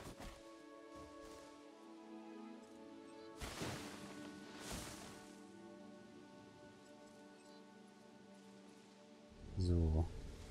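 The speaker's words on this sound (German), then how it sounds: "Es regnet aber jetzt gerade häufig." Steady rain patters across a landscape in the dinosaur park game Jurassic World Evolution, a soft continuous wash under background music with a couple of brief louder bursts, while someone talks over it.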